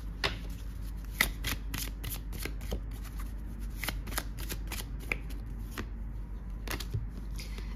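A deck of archangel oracle cards is shuffled by hand in a quiet room, giving a steady run of soft riffling and sharp card snaps close to the listener, with no talking.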